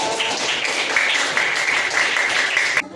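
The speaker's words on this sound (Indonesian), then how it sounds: "Berikan tepuk tangan yang meriah" Fifth-grade pupils and others in a classroom give lively applause, a steady patter of many hands clapping close by that cuts off abruptly near the end.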